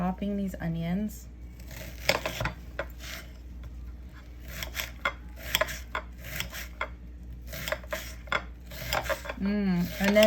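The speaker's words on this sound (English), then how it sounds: "Chopping these onions." Quick knife chops on a cutting board as onions are cut, irregular taps with some pauses, close by, and a few clinks of utensils mixed in.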